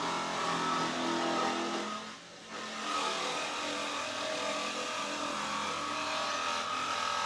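A Marmon truck engine runs loud and close with a thick, rough roar, dipping briefly as if easing off before surging back to a steady heavy drone, with no talk over it.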